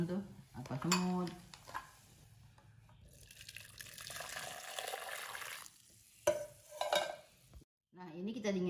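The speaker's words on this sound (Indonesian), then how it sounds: "Nah, kita saring ya, takut ada hitam-hitam tuh apa semut." Boiled drink syrup is strained in a kitchen, with pot and utensil clatter, stirring and a stretch of pouring, running liquid, plus a few short bumps and brief talk at the start and end.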